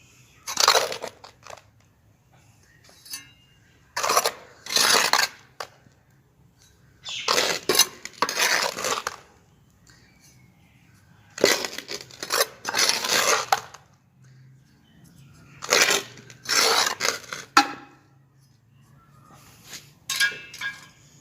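Refined potting soil poured gently into a flower pot while repotting a root-bound asparagus fern, heard as several separate bursts of gritty crumbling and rattling, each a second or two long, close by with quiet pauses between.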